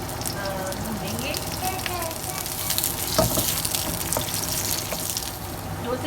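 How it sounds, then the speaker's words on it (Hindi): Onions frying in oil in a pan, a steady close sizzle and crackle that runs without pause under a faint background. "और अब हम इसमें डालेंगे प्याज, और इसको हल्का पिंक होने तक भूनेंगे।"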